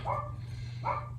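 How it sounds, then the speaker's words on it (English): A dog on a Harley Twin Cam clutch-install workbench session gives two short barks about a second apart, moderately close, over a steady low hum. "The dog wants attention."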